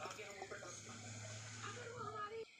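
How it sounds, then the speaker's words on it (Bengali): Milk being poured over a small Gopal idol during a home puja, a soft, continuous splashing trickle that is faint and close and ends abruptly, with someone talking over it. "আর এদিকে গোপু সোনাদের দুধ দিয়ে স্নান করিয়ে দিচ্ছি"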